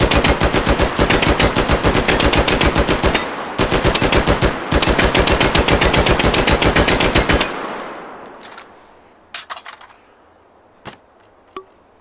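Full-auto gunfire in the VR shooter H3VR, two long, loud, rapid machine-gun bursts broken by a brief pause, then a fading tail followed by a few sparse metallic clicks and handling sounds.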